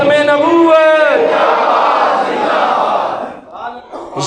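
A large crowd at a religious gathering roars a slogan in unison after a leader's call, a loud voice first rising in pitch, then a sustained mass shout that fades and gives way to further calls.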